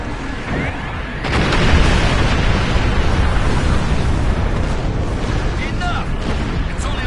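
The Doomsday Weapon in Star Trek Online fires in heavy explosive bursts, a loud rumbling barrage that swells after a second and stays dense and continuous, with voices talking over it.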